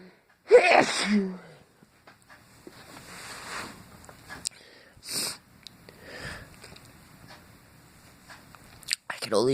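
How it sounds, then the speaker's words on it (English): A person sneezes repeatedly after using a fragrance spray in an apartment: one loud close sneeze burst, then sniffing and several further sharp sneezes and snorts scattered over about ten seconds, with a breathy, wheezy tone between them. "couldn't stop sneezing."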